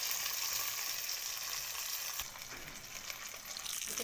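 Fish fries in a pan Kerala style, giving a steady bright sizzle and crackle at moderate volume that settles slightly toward the end, with no voices.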